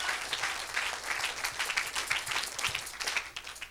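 A church congregation claps and cheers for Jesus during a sermon, a dense, steady wash of applause from a large crowd with no clear speech on top.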